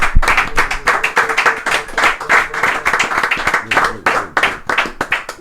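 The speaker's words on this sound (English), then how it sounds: "Everybody, give each other a round of applause today." Small group in a podcast studio clapping for one another, loud close-up claps in a quick irregular rhythm from a handful of people, some sharp individual smacks standing out.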